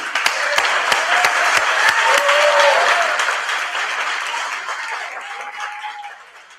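Crowd applause at a gala awards celebration follows a speech, loud full clapping with a few whoops that gradually fades over several seconds.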